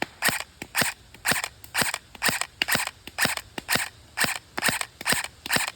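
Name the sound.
Novritsch SSE-18 airsoft rifle semi-auto shots into net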